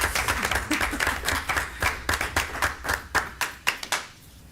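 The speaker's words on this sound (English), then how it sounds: "One more round of applause." A round of applause at a school committee meeting, a small group clapping in a brisk uneven rhythm, fairly close, then tapering off to a few last claps.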